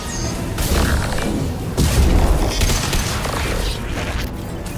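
Heavy weapon fire in Mass Effect 2: a deep booming blast with crashing, rumbling low end that swells around two seconds and keeps roaring, loud and close, with no talk over it.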